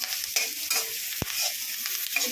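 Crushed garlic and curry leaves fry in hot oil while being stirred for a bitter gourd palya, a bright crackling sizzle with intermittent spoon scrapes and one sharp knock against the pan, close and without voices.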